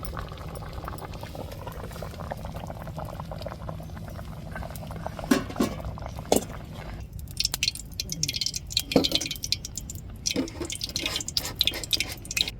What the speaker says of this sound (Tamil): குழம்புலாம் நல்லா கொதிச்சு மீன் குழம்பு வாசம் வந்துருச்சு